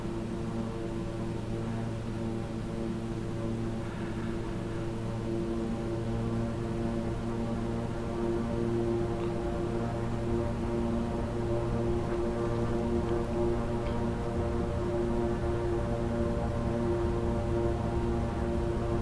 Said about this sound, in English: Hear those engines working hard to get us up to speed.